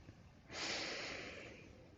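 A single slow, breathy exhalation or inhalation rises after a brief pause, holds steady for about a second and a half, then fades, heard close and alone during a lying-down belly-and-chest breathing exercise.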